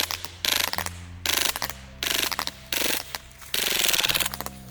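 A KWA KMP9 gas blowback airsoft gun is handled during a magazine change, with a series of sharp metallic clacks and ratcheting mechanical bursts coming close and loud in irregular clusters.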